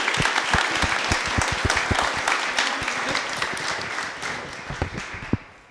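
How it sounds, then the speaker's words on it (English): An audience applauds the speakers at a panel discussion on aphasia, with steady, dense clapping from a room full of people that thins out and fades near the end. "a little round of applause for our incredible subjects"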